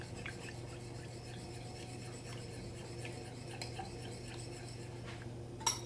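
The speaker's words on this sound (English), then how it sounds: "You're gonna mix it all up nice." Honey sauce being mixed by hand in a bowl, with faint, quiet scraping and clinking of a utensil against the bowl, soft and intermittent over low background hum, no talk.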